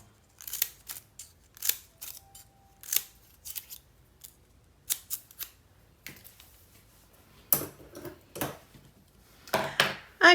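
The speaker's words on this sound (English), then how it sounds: "we just need to fringe cut all of these strips" Scissors fringe-cut paper strips in a steady run of crisp, close snips, some grouped in quick pairs, with brief pauses between cuts and no voices.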